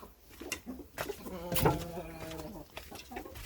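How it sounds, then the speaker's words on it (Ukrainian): Chickens clucking close by, with one drawn-out hen call in the middle and soft scratching and rustling around it. "кури тут"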